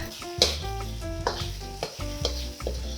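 Carrot slices and oyster mushrooms stir-fry in a hot pan: a bright, close sizzle punctuated by rhythmic clanks and scrapes of the spatula every half second or so, loud and without voices.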